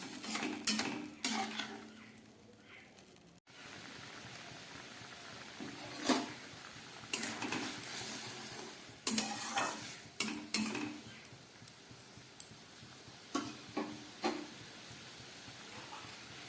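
Okra cooks in a pan with raw oil and a splash of water, with intermittent scraping stirs and clinks of a utensil against the pan over a soft, low sizzle.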